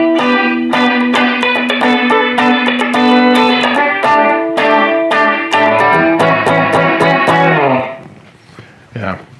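Hardtail Stratocaster electric guitar picked through an effects unit, bright, distorted notes and chords ringing in a steady strummed rhythm, then fading near the end as a few quieter scratchy sounds follow.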